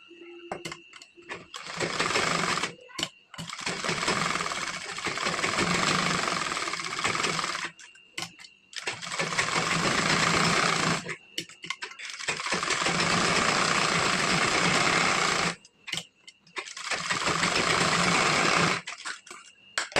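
A sewing machine stitches the front part of a four-tuck blouse, running in long loud bursts separated by short stops, close up and steady.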